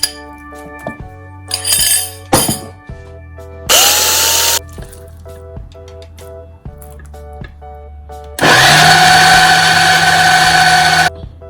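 An electric chopper whirs in loud bursts as it grinds milk-softened bread in its chopping bowl, with a few short pulses, clinks and knocks between them, then one long continuous run near the end.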